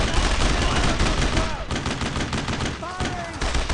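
Gunfire in Brothers in Arms: Road to Hill 30 while defending Cole's command post, dense continuous rifle and machine-gun shots close and loud, with shouted voices faintly mixed in.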